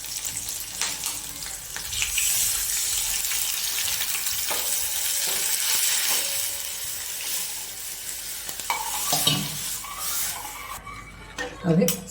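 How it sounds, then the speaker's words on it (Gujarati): Buttermilk mixed with turmeric and gram flour poured into hot tempering for Kathiyawadi kadhi; a loud hissing sizzle that gradually settles and softens, with a voice speaking intermittently over it. "હવે આપણે જે છાશમાં હળદર અને ચણાનો લોટ નાખ્યો હતો એ નાખી દઈશું"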